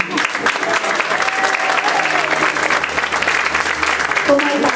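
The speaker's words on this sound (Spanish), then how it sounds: "nuestros actores para que cada uno reciba su aplauso individual, siempre muy merecido" Sustained audience applause fills a school hall after a children's Christmas play performed by four-year-old pupils, dense clapping steady and loud throughout with faint background voices mixed in.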